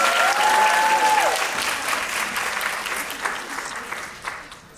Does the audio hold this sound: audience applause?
yes